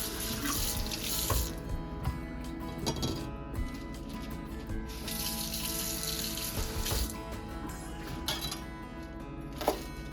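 Tap water runs steadily into a kitchen sink as celery for potato salad is rinsed under it, a continuous close splash with occasional clinks and shifts in the flow.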